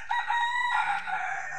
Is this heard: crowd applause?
no